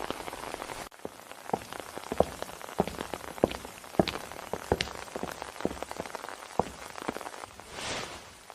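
Steady rain falls outdoors, pattering with many distinct drops striking a surface in an irregular, crackling rhythm. It is soft and continuous, with no voices.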